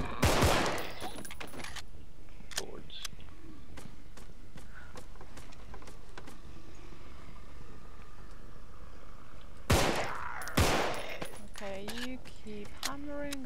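Gunfire in the video game Contagion, with loud bursts of rapid shots at the start and again near the end. Scattered single shots and footsteps fall in between, and a voice is heard briefly.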